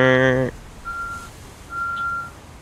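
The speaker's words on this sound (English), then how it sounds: "from the reversing beeps I was hearing as well" A truck's reversing alarm beeps twice in a slow rhythm, each long electronic tone clear and moderately loud, after a brief buzzing electronic tone at the start, with no talk over the beeps.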